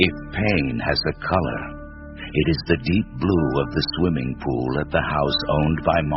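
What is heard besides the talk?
None of the usual background noises is heard.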